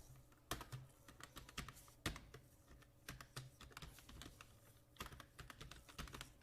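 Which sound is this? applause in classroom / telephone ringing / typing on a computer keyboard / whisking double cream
typing on a computer keyboard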